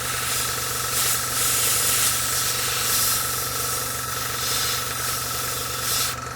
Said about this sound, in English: the edge is not overspraying too much due to the quality of the airbrush